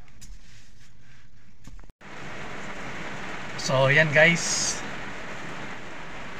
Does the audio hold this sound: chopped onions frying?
no